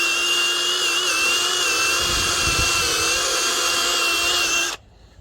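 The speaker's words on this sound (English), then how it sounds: "I got one of these cool brushes on my drill." A power drill spins a brush attachment against a dirty Ford F-350 tire, a loud, steady high-pitched whine with scrubbing rasp underneath, running continuously before cutting off abruptly near the end.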